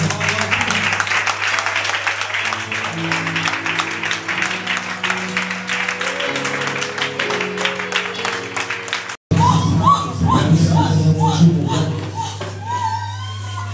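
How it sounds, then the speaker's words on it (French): A church congregation at a worship gathering applauds in sustained dense clapping with a continuous crowd roar, while voices carry over it before a brief cut and more cheering. "Nous acclamons le Seigneur."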